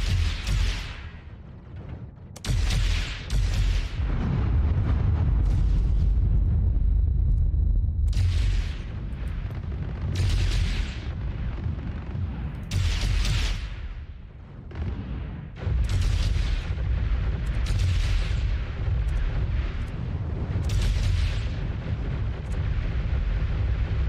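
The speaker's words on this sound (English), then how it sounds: "Shoot a rocket launcher." Rocket launcher explosions in the space game Starbase: a string of loud, deep booms with roaring bursts and rumbling decay, several blasts close together and no talking.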